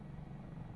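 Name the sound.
helicopter flying in a flight simulator video game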